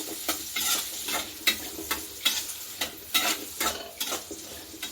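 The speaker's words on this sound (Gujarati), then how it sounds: "હવે તેને સારી રીતે આપણે હલાવી લઈશું।" Ginger, garlic, cinnamon and cloves sizzle in a hot pan while a spoon stirs them, giving a steady frying hiss broken by regular scraping strokes, close and clear with no talking.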